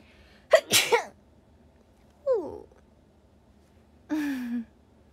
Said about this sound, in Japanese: くしゃみが出そう